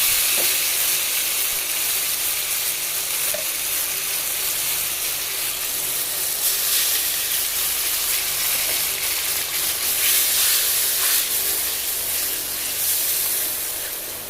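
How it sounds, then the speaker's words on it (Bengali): Ginger garlic paste sizzles and fries steadily in a pan with chopped onion and spices, a dense, continuous crackling hiss that stays loud and close throughout with no speech. "এবার এখানে পেঁয়াজ কুচি সম্বাদ দিয়ে মশলায় আদা রসুন পেস্টটা দিয়ে দিলাম"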